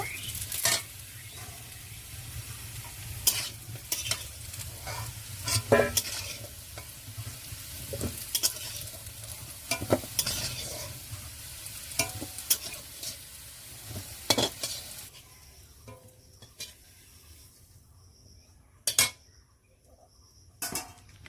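Potatoes frying and stirred in oil in a home kitchen pan, with a steady sizzle and frequent clinks of a metal spatula against the pan; the scraping thins out and goes quieter near the end.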